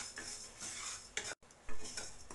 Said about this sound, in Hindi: गैस पे पैन रखेंगे, कढ़ाई या पैन, और उसमें हमें जीरे को रोस्ट करना है।